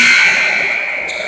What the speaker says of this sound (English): there's the buzzer, and it's time for Central to get back to work